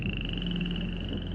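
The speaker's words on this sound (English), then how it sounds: "Frogs." A dense chorus of frogs croaks without pause, a steady rattling trill at moderate volume with a low background murmur beneath it.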